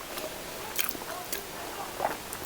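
A child bites into and chews food, probably larb, a spicy Isan minced beef salad, with soft crunches and wet chewing close by over a steady background hiss.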